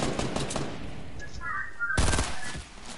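Bursts of AK rifle fire in a battle royale video game, a rapid broadband volley at the start and another loud burst around the two-second mark, with faint game effects in between.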